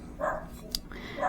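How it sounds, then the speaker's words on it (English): A dog gives two short barks a second apart, distant and faint, with a sharp click between them. "If you hear my dog barking"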